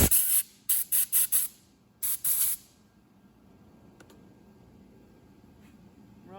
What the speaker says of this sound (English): Take a little WD-40, a little compressed air.